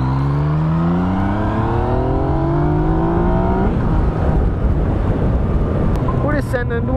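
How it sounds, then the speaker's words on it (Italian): A 2017/18 Yamaha MT-09 three-cylinder motorcycle engine revs up loud and close, pitch climbing steadily before shifting into a rougher, broadband roar as it keeps accelerating; no one speaks. "Il sound del tre cilindri è veramente fantastico."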